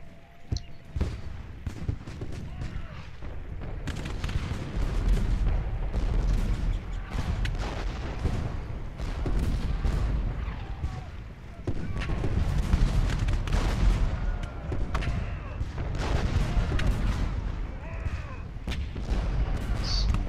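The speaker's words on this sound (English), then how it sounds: "Artillery up on this hill." Artillery in a Gettysburg battle video game booms repeatedly amid scattered gunfire, a dense, continuous barrage of heavy thuds and cracks with no clear rhythm.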